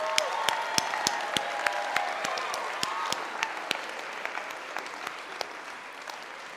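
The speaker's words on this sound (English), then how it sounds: "we give you guys a round of applause for all what you guys do" A crowd at a high school leadership conference applauds, the clapping broad and steady with some sharp individual claps standing out near the microphone, gradually thinning toward the end.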